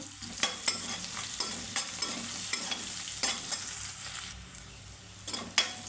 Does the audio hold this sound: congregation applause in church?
no